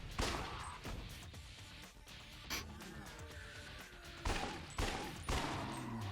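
Gunfire from the video game Lost Judgment, in a House of the Dead light-gun style shooting section, comes as sharp, fairly loud shots, some single and some in quick bursts, irregularly spaced over a constant game background.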